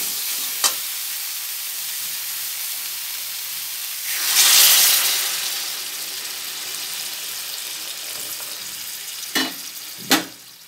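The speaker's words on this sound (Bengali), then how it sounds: "এবার আলু দেবো এবার এতে গরম জল দেব গরম জল" Spices and potatoes frying for a Bengali fish curry, payera or pholoi maach er jhol, give a steady sizzle, then hot water poured in makes a surging hissing burst of steam, followed by a few sharp clinks from utensils.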